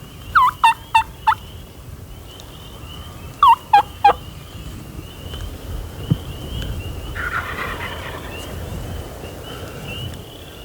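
Wild turkey toms gobble outdoors in spring, two bursts of rapid, rattling gobbles in quick succession, fairly close and loud, followed by quieter ambient rustle.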